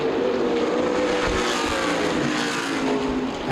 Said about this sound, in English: Running third, Billy Van Meter, again down on power on the straightaways, running through the corners fine.